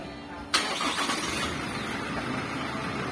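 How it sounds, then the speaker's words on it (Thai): A 2021 Toyota Commuter van's engine is started with a fitted push-start button: a sudden crank catches and settles into a steady, close idle with no one talking. "ถ้าพี่จะสตาร์ทต้องเหยียบเบรกอ่ะ"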